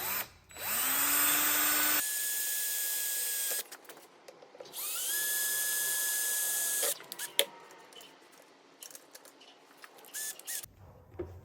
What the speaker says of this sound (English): I do a pilot hole first before I go to the size that I need.